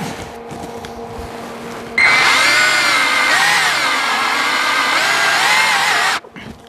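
A power drill drives a screw into particle board: a loud whining motor starts abruptly, strains with wavering pitch for about four seconds, then cuts off, close by.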